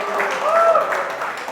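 A church congregation claps together in a brief burst of steady applause while a voice carries on over the clapping.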